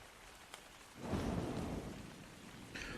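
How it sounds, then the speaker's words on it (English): Rain in Ark: Survival Evolved swells into a steady wash with a low rumble of thunder rolling in, heard alone with no speech. "Trying to get out of the rain as best I can."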